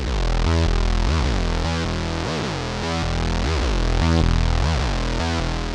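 A Boss SY-1000 guitar synthesizer plays a loud, distorted sequenced pattern whose tone sweeps up and down in repeating pulses, each step gliding from low to high and back again.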